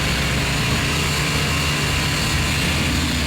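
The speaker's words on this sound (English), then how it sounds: "The Baja Cobra 400s are 400cc, air-cooled, two-wheel drive." A Baja Cobra 400cc air-cooled, two-wheel-drive off-road buggy engine gives a steady, loud, unbroken droning roar with no voices over it.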